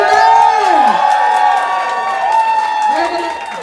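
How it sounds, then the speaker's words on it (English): Audience at a drag pageant's Snatch Game round cheering and whooping loudly for the competitors, a dense, sustained crowd roar with high voices rising and falling throughout. "make some noise for all of your Snatch Game competitors this evening!"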